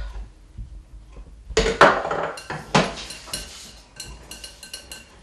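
Utensil stirring powdered sugar into a melted pie-base mixture in a pot, giving close, irregular scraping and clinking bursts that build and then settle into lighter clatter, with no talking.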